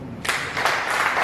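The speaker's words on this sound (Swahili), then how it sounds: "Piga makofi." An audience in a church bursts into clapping, a brief, close burst of hand claps that builds within about a second.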